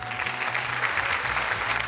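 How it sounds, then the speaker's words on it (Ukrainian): Audience applause at a Ukrainian TV quiz show greeting a contestant, a steady dense wash of clapping throughout with no voices over it. "Привітайте оплесками ще одну нашу учасницю."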